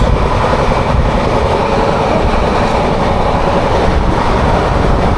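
Loud, continuous roar of the 22861 Kantabanji Ispat Express running at high speed, heard from inside with steady rumble and rail clatter throughout.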